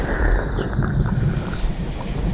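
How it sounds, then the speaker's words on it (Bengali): Heavy rain with a rumble of thunder in an animated Bengali horror story set on a stormy night outside a tea shop, a close, dense downpour with low rolling booms underneath. "বাইরে তখন ঝমঝমিয়ে বৃষ্টি আর মাঝে মধ্যেই বজ্রপাত হচ্ছে"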